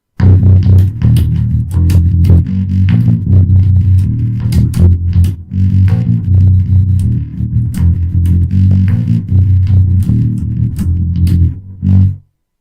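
Distorted electric bass plays the chorus riff of a song, with loud, driving low notes and sharp percussive attacks, close and alone before stopping abruptly at the end.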